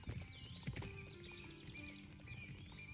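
A horse in the Bibi & Tina video game gives repeated hoof clops with high, wavering whinny-like calls over steady background game music, close and moderately loud throughout.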